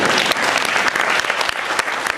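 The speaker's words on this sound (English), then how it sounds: "I swear, you can applaud, you deserve it" An audience at a horror convention interview with Billy Zane bursts into dense, steady applause, loud and close, with many hands clapping continuously throughout.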